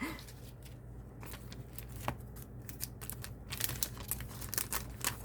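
Crinkling and rustling of plastic packaging as a small 3,000-won gift bundle with avocado is wrapped, close and fairly quiet, with scattered crisp bursts and light handling noise.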